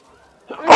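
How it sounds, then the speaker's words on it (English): A person lets out one sudden, loud sneeze at close range, preceded by a faint voiced breath as it builds up. "Oh, hang on, sneeze coming."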